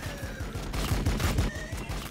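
Rapid burst of an assault cannon firing in Warhammer 40k BattleSector, a dense rattling volley of repeated shots with a low rhythmic pulse underneath, moderately loud throughout the short span with no talk.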